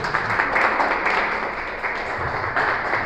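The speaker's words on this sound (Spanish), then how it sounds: "Pueden aplaudir, si van a aplaudir, pues aplaudan." Dense, steady applause from a church congregation fills the space, a broad wash of many hands clapping at once with no talk over it.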